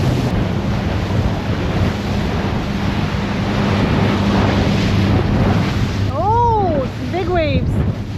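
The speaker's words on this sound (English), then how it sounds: "Waves" Steady rushing ocean waves and wind around a sailboat off the Ragged Islands, a constant broad wash with buffeting on the microphone, and near the end a few brief rising-falling whistling tones over the surf.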